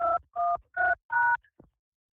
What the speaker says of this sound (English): Somebody's dialing a phone.